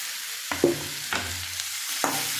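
Medium-size chopped tomatoes sautéing in a pan with half-cooked onions for mushroom gravy: a soft steady sizzle with three distinct scrapes and stirs of a spoon, close by and without talk.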